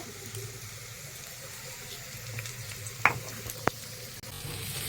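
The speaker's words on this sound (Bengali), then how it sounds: "আমার পেঁয়াজটা ভাজা হয়ে গেছে" Onions fry in a pan with a steady close sizzle that continues throughout, broken by two brief sharp clicks.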